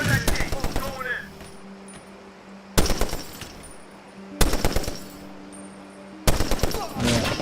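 Heavy machine gun fire in the video game Medal of Honor Warfighter comes as four loud, rapid bursts, each a short rattling string of shots separated by quieter pauses.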